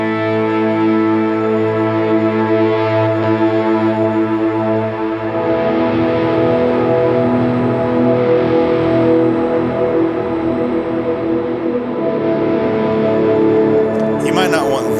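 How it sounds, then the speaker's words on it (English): Sustained, swelling guitar tones played with a volume pedal through a Line 6 Helix wash in and out, smeared with lush reverb and echoing delay into a dense, shimmering ambient pad. "this button just turns on a bunch of reverb and delay,"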